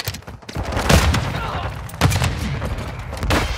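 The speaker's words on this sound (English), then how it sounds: "Throwing grenade!" A grenade explosion and rapid gunfire in a military shooter video game, with loud booming bursts and a continuous crackle of shots, while voices call out over the combat.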